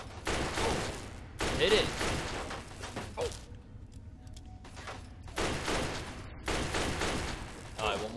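Repeated bursts of gunfire in Fallout 3, several clustered volleys spread across the clip at moderate loudness, with a voice shouting over the shots.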